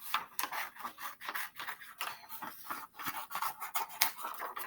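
Scissors cut out a paper triceratops with steady, close snipping and rustling of paper, a continuous run of small crisp cuts at a quiet level.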